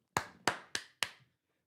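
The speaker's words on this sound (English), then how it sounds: "We got the round of applause on here" Four sharp, close hand claps in quick, even succession, a short corny round of applause for a new member, ending in silence.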